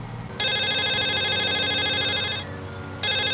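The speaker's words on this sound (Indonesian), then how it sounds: "Telepon." A telephone rings with a bright electronic trill, one long burst followed by a short pause and another ring starting, clear and fairly close.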